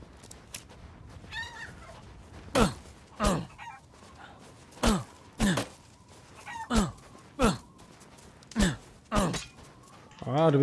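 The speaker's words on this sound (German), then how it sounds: "Hier hinten ist das Hühnchen." A chicken clucks and squawks in the video game Resident Evil Village, with repeated sharp bursts coming every second or so, close and loud over quiet background noise.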